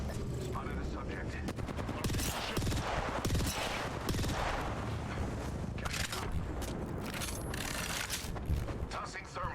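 Rapid bursts of automatic gunfire from a second enemy squad in a video game crackle continuously, dense and loud, layered with mechanical game effects and intermittent voice chatter.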